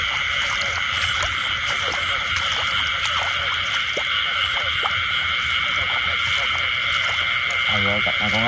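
Frogs croak at night beside a jackfruit garden, a dense, continuous chorus of pulsing calls alongside a steady high insect-like drone, with repeated nearer croaks punctuating it from start to finish.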